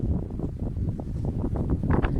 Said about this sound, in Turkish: bu tarafta bayağı bir rüzgar var